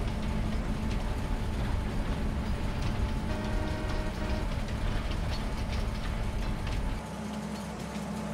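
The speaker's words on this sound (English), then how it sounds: "It's been a while since we've been on the train." Steady rumble and clatter of a moving train carriage while riding along in Farming Simulator 22, constant loud noise with faint tonal hum, dropping slightly in level near the end.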